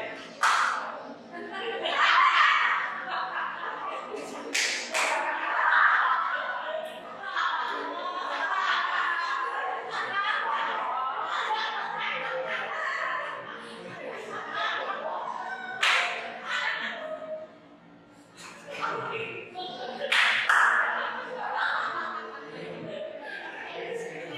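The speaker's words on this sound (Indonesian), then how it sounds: "Tepuk sekali." A school class plays a clapping game, students clapping together on cue in short bursts, with a teacher's voice giving instructions and some giggling and chatter between the claps.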